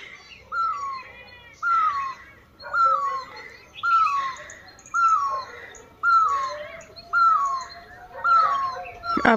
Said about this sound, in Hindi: और पीछे कोयल की कू कू की आवाज़ तो आपको सुनाई दे ही रही होगी।